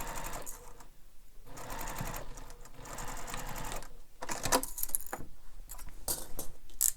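A sewing machine runs in steady bursts, basting a zipper onto a bowler bag with a long stitch length. It whirs close and loud in several runs separated by brief pauses, and no voice can be heard.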